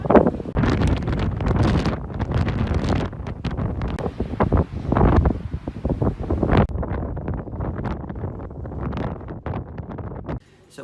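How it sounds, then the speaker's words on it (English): Strong wind batters the microphone atop the Etretat cliffs in gusty, roaring bursts while a person talks through it, the buffeting rising and falling in irregular surges. "It's very windy up here, so I hope you can hear me."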